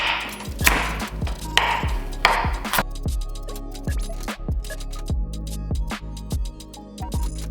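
Four carrots sliced with a knife on a cutting board for butternut squash soup, giving a steady run of crisp, close chopping knocks at a brisk even rhythm, with no talking.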